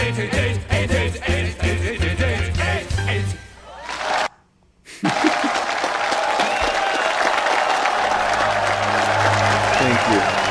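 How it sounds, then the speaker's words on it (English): Canned crowd applause from a sound-effect track: loud, dense clapping mixed with crowd cheering, broken by a brief near-silent dropout partway through before the applause resumes steadily to the end. "I need more applause tracks."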